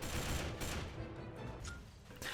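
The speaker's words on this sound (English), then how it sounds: "It can lead to some pretty funny explosions and enemy deaths" Rapid bursts of gunfire and explosions crackle through a jungle shooter video game with ragdoll physics, a dense continuous barrage with a few sharper blasts standing out.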